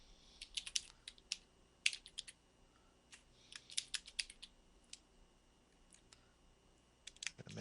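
Typing on a computer keyboard at a desk, irregular bursts of close, crisp key clicks with pauses between runs, no talking.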